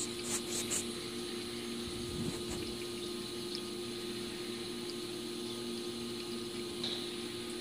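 Flood coolant streams steadily over a Bridgeport Series 1 CNC mill, a constant low pump hum with watery splashing and trickling throughout, faint and continuous without talk.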